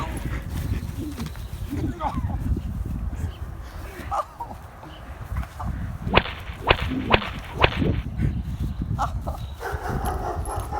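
Several sharp whip cracks snap out over a noisy, busy background with voices, spaced a second or so apart and loud up close.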